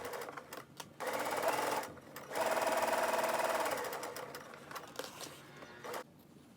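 Sewing machine stitching around two pinned pieces of fabric for a small flower pouch, running in two steady bursts with a short pause between them, close and clear with no talk.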